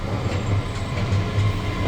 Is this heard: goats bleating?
no